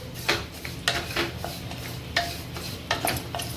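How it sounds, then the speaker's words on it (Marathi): Milk shev roasts in ghee while being stirred, giving repeated light scraping and tapping strokes against the pan at an uneven rhythm, close and steady, with no voices. "अशी तुपामध्ये चांगली भाजून घ्यायची आहे ही दुधाची शेव आहे"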